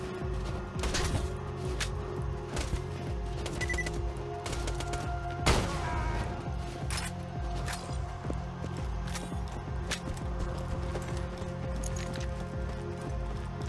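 SMG gunfire in Borderlands 2, with scattered sharp shots and short bursts popping over a steady game ambience and one louder blast midway, moderately loud.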